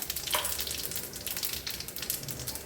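Mustard seeds crackle and spices fry in hot oil, a dense continuous sizzle with rapid sharp pops throughout, close and steady.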